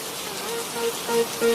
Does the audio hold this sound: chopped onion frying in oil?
no